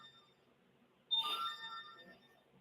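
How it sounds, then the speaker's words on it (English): A mobile phone ringtone chimes up in a quiet room: a short bright melodic burst of ringing tones that sustains briefly and then trails off. "That's my phone."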